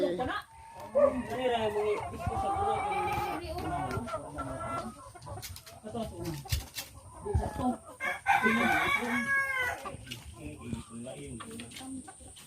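Chickens at a market clucking and crowing repeatedly near and loud, with a rooster's crow rising above the flock, while people talk over the birds throughout.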